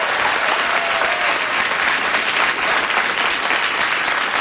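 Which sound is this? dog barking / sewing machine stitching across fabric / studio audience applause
studio audience applause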